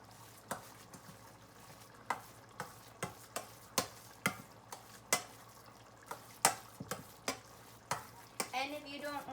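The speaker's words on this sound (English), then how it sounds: "Just make sure that it's well mixed so that all the egg is incorporated" Ricotta and egg mixture being stirred for zucchini lasagna, a steady run of sharp scraping and tapping strokes of a utensil against a bowl, close and fairly loud, repeating about every half second with no talk.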